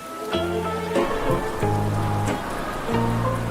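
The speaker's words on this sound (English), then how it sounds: "A sudden rain makes Peppa grab her colorful umbrella." Steady cartoon rain patters under a bright musical accompaniment of held tones that start and stop in short phrases.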